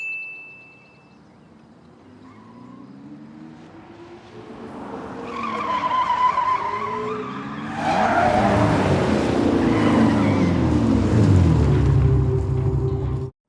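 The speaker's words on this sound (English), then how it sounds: "why does this car sound like a C8 Corvette?" Audi e-tron GT electric car driving in an Avengers film scene, a rising engine-like roar that swells into loud tire squeals and skidding, with a brief chime at the start.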